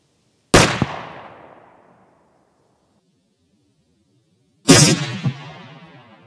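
Two sharp, loud rifle reports from a 6.5 Grendel firing 100 grain Hornady ELD-VT bullets at a 200-yard gel target, spaced about four seconds apart, each with a long decaying echo across open ground.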